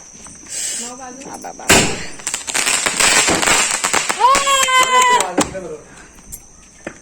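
Loud Diwali firecracker bangs and crackling bursts fill the middle of the clip, lit directly with a matchstick, with a whistling, rising hiss and people talking nearby before and after.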